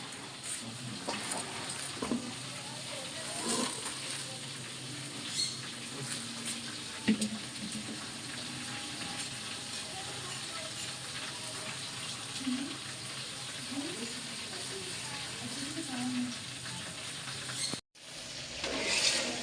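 Onion and green chilies sizzle in a pan for a Bengali pabda fish and spinach dish, a steady, fairly quiet frying hiss with faint pops and a brief break near the end, and soft voices now and then.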